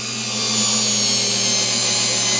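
A SKIL 4V cordless pivot-grip screwdriver drives screws into a piece of 2x4 lumber with a steady, close, high-pitched motor whine that holds loud and continuous throughout.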